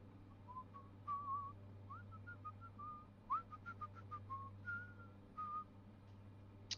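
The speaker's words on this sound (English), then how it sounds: "Or are you just listening to me whistle?" A person whistles a loose, wandering tune indoors, with short sliding notes and pauses over a steady low hum, fairly quiet and close.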